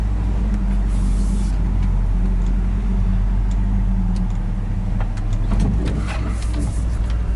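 A 1986 Chevy K10 truck crawling slowly, its engine a steady low rumble heard from close inside the cab, with faint rattles and creaks over the drone and no talking.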